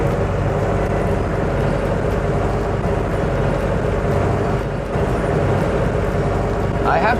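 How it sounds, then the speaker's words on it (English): A tractor drives in low second gear pulling a flail mower through wet grass, a loud, steady, unbroken engine drone with rumbling low end that fills the whole stretch. "I have to drive in second gear low to be able to get the grass out of the flail mower."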